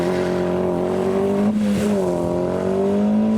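A modified car accelerates hard away from a car show in heavy rain, its engine droning loud and steady and rising in pitch, with no one talking.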